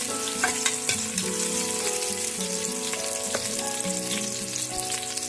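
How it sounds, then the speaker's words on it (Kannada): Chopped onion hits hot oil in a pan for a pulao and fries with a steady, dense sizzle throughout. Faint stirring clinks rise above it, and no one speaks. "ಈಗ ಇದಕ್ಕೆ ಒಂದು ಈರುಳ್ಳಿ, ಹೆಚ್ಚಿರೋವಂಥ ಈರುಳ್ಳಿ ಹಾಕ್ಕೊಳ್ತಾ ಇದ್ದೀನಿ"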